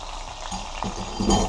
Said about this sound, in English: while the fish is frying up